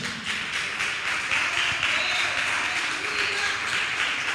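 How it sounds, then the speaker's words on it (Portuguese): Congregation in a church service clapping for the Lord, a broad, even roar of applause sustained for several seconds, filling the room without pause. "Você pode aplaudir ao Senhor?"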